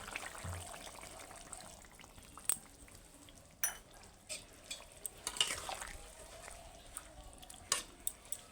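Fish curry simmering in a pan with mustard and poppy seed paste, a Bengali bata fish jhol: a soft, steady bubbling sizzle with several sharp utensil clinks and stirring scrapes scattered through, close and fairly quiet.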